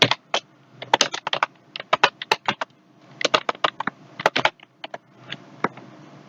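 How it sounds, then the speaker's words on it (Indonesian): Keys clack on a computer keyboard in short, irregular bursts of typing mixed with single sharp presses, close and clear with no talk. "berikutnya adalah saya tekan enter"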